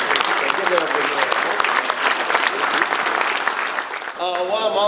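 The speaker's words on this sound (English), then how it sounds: "the club members, please clap and give them a big hand" A room of club members at a meeting breaks into loud, sustained applause for the volunteers, and a voice comes in as the clapping dies away near the end.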